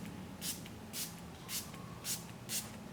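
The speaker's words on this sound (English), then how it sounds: "it's designed to spray a light mist of straight water" Five quick, faint spritzes of filtered water from a spray bottle misting a car taillight, evenly spaced about half a second apart.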